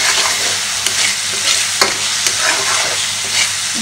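Chicken masala with ginger garlic paste being stir-fried for a Kolkata-style Aminia chicken dish, a loud close sizzle with periodic spatula scrapes and taps, no voices.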